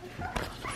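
Four-week-old puppies cry and whimper in short, high, overlapping whines, close by and fairly soft over a brief moment.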